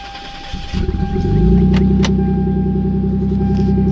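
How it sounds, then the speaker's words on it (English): A Mk4 Toyota Supra Turbo with a full exhaust starts and settles into a loud, deep, throaty idle with a steady burbling exhaust rumble, close by. "with a full exhaust, the car sounds really, really good."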